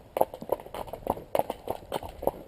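Horse hooves clip-clopping at a steady walking rhythm, close by, with about eight distinct strikes and no speech.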